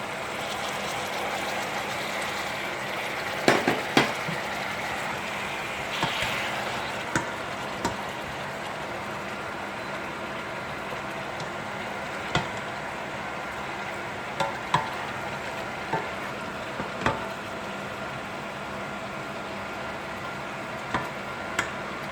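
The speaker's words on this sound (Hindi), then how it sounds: "अब कीमे को थोड़ा सा फ्राई करूँगी जब तक ये कीमे का कलर जो है चेंज हो जाए।" Minced meat (keema) frying in hot oil with garlic and ginger paste, a steady low sizzle running throughout with occasional sharp clicks and taps from stirring, no talking.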